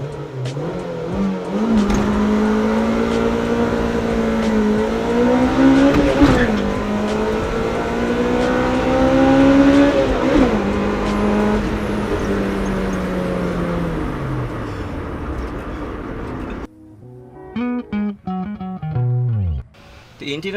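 A Honda Civic Type R EK9 accelerating hard from 0 to 100 km/h: the engine howls upward through several gear changes, each rise cut by a brief dip, loud and close from inside the car, before dropping to quieter separate sounds at the end.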